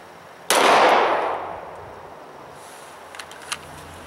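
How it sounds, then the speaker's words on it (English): A handgun fires a single round at a target three yards away on an outdoor range. The sharp, loud report is followed by a ringing decay, with a couple of faint clicks afterward. "I'm going to draw and fire one round each time."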